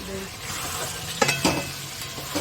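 Marinated chicken tipped into spices already fried down for a chicken curry, sizzling steadily in the pan while a spoon stirs and scrapes, with a couple of sharp clattering knocks midway.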